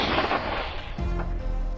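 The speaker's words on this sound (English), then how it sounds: "Shots fired, cold, decisive." Gunfire during a wild boar hunt on a hillside, heard as a loud, dense burst of blasts that gives way to a rumbling low echo.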